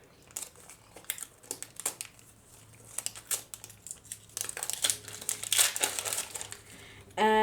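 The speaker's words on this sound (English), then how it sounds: "So let me remove this packaging." Plastic packaging is pulled and crinkled off an Onn Google TV streamer box, producing close, irregular crackles and rustles that grow denser and louder toward the end.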